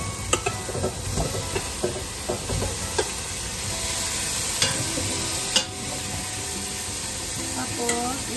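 Raw chicken pieces hit a pot of garlic and aromatics for tinola and sizzle steadily, with stirring clinks and scrapes scattered throughout.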